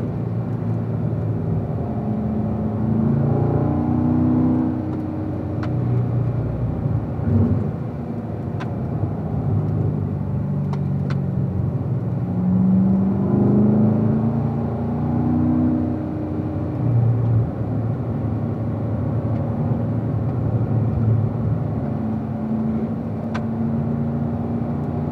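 Car engine at full throttle on a racetrack, a sustained loud whirring drone that rises and falls in pitch through gear shifts and corners, steady and close for the full stretch.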